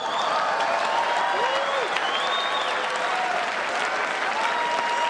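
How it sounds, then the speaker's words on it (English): Steady, dense applause from a large audience at the White House Correspondents' Dinner fills the whole stretch, loud and even, with a few voices mixed faintly into the clapping. "Give them a round of applause."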